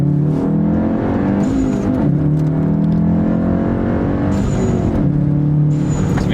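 A 2017 Volkswagen Golf R with a Borla S-Type cat-back exhaust drones loudly and steadily from inside the cabin, its engine note rising and falling through gear changes with a deep, continuous hum.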